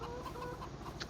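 Farmyard chickens in Farming Simulator 25 clucking softly in a brief cluster of low bird calls over a constant game ambience, with no one speaking.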